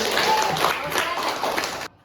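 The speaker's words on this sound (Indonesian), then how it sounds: "Tepuk tangan buat kelompok 3." Classroom of students clapping for a group during an Islamic religious education lesson, a dense steady patter of many hands filling the room for under two seconds, then stopping abruptly.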